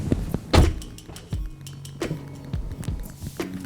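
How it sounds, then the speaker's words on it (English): The doors of a 2021 BMW M440i xDrive coupe close with several solid thunks and latch clicks, nearby and fairly clear, with small mechanical rattles between them. "a little detail when you close the doors"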